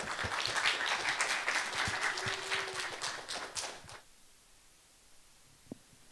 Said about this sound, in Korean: 우리 김아랑 교수님 모실 때 사랑과 축복의 박수로 함께 모시도록 하겠습니다.